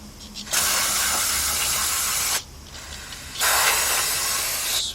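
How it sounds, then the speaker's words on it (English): Brake parts cleaner aerosol sprayed during brake work on a 2002 Workhorse FastTrack FT Chevy P30 chassis, two long loud close hissing bursts separated by a short pause. "So I'm going to take some brake parts cleaner."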